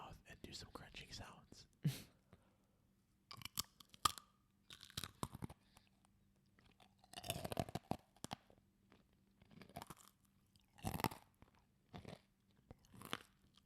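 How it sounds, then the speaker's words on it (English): Close-up crunching of a pretzel peanut butter bite, repeated bursts of crisp chewing in irregular clusters over quiet pauses, with soft whispering between them. "I'm gonna go ahead and put it in my mouth and do some crunching sounds"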